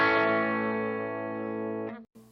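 Clean electric guitar tone through a Big Muff style fuzz pedal, a single sustained note ringing rich in harmonics and slowly decaying before being cut off, followed by a brief restruck note.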